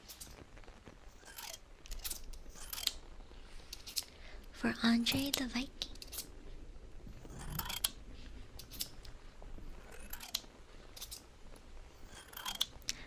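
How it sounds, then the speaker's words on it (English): Crisp snips of scissors cutting, several quick cuts spaced irregularly, close by, with soft whispered speech underneath. "Bit more scissor cutting sounds"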